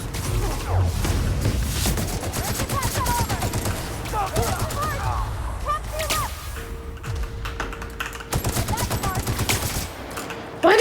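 Gunfire in the video game The Outer Worlds: rapid bursts of automatic shots crackle in dense volleys with short pauses, mixed with game effects and a voice talking over the action.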